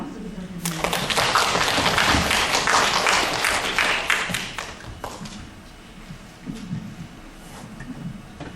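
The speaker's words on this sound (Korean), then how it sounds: "스님께 큰 박수 부탁드립니다" An audience at a Buddhist education scholars' academic conference claps for a monk lecturer. The dense, loud applause lasts about five seconds, then thins out into scattered room noise and faint murmuring.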